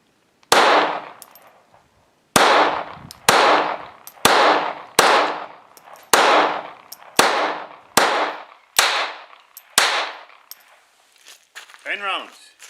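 Smith & Wesson M&P 22 pistol firing about ten loud, sharp shots close by in a steady, fairly quick rhythm, followed by a faint rattle as firing stops.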